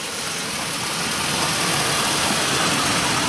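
A steady Chevy truck engine roar fills the whole clip as it revs, loud and close, with a broad rumbling hum that holds fairly even throughout and no voices.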